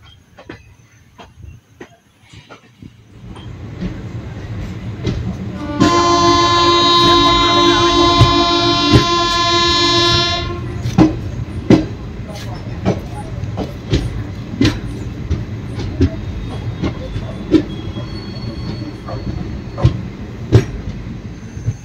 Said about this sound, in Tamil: நம்ம செம்மொழி வண்டி பார்த்தீங்கன்னா சரியா ஆன் டைமுக்கு நம்ம நீடமங்கலம் ஜங்ஷன் வந்தாச்சுங்க